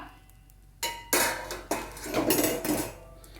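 Mango pieces for a long-keeping oil mango pickle tumble into a metal pot, giving a few loud clattering knocks and scrapes of cookware close up, with no voices.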